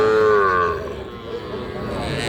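A young bull calf moos loudly at a cattle market in Bangladesh, one drawn-out bellow that fades into general market noise.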